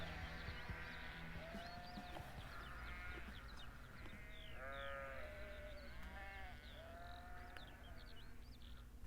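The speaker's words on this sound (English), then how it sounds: "Is that a sheep?" Several sheep bleat repeatedly over a low, steady background hum, their wavering calls overlapping at a moderate distance, heard in a recording of an album.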